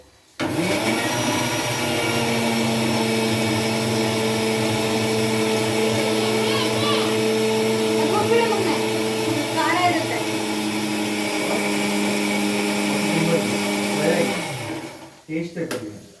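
A mixer grinder grinds egg masala ingredients into a fine paste, running as a loud, steady whir with a constant droning pitch for about fourteen seconds before cutting off and winding down.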